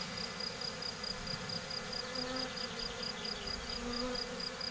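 Honeybees hum steadily around an open hive frame, a dense continuous buzz at moderate level with no voices.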